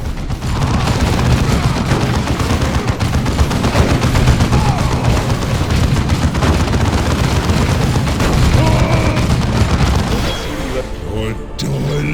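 Dense, loud battle din from the video game Warhammer 40K Dawn of War 2: continuous rattling gunfire and booming bomb blasts layered together, with voices shouting amid the chaos.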